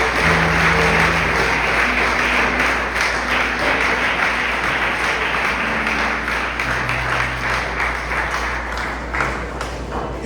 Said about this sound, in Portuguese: você pode dar um aplauso ao Senhor por essa noite?